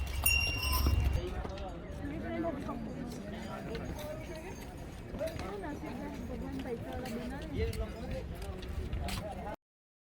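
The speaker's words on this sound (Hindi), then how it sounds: "घोड़ा पड़ाव यानी जहाँ पे घोड़े रुक जाते हैं" Horses' hooves clip-clop at the horse stop on the Kedarnath trek, a steady mix of hoof knocks blended into busy outdoor bustle with people talking throughout.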